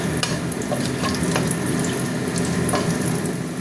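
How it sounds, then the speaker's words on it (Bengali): Whole garam masala spices frying in hot oil, a continuous close sizzle and crackle that stays even throughout, with no talk. "তেলটা একটু গরম হোক। এবার দিয়ে দিচ্ছি গোটা গরম মশলা।"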